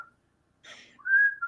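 A woman whistles a short, clear rising-then-steady note after a breathy sound, close and fairly loud in otherwise quiet surroundings.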